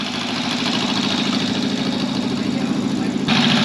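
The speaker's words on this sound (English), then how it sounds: "Just an engine running here." A boat engine runs loudly and steadily near a rickety bridge out to the boat by a Vietnamese starfish beach, a continuous close rumbling drone with a slight rise in intensity near the end.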